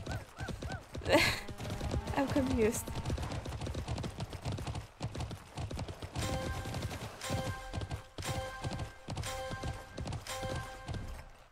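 Horse hooves clip-clop in the Alicia Online video game, a quick run of close, sharp hoof beats with a neigh early on, while a person speaks briefly.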